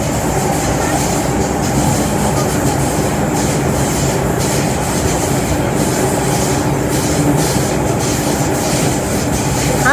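A Hong Kong MTR train runs steadily on the route from Tung Chung, giving a constant loud rumble and hiss from inside the car with faint clatter from the wheels. No voices come through above it.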